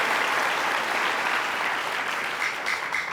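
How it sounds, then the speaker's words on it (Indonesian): A steady wash of audience applause from a TV talk-show studio audience, dense and continuous, filling the room without any voices. "kita kasih tepuk tangan untuk Kang Dede Yusuf."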